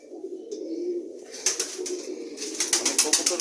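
Pigeons coo indoors in a room where they are kept, with a low steady murmur of cooing and brief bursts of wing flapping or rustling near the middle and end.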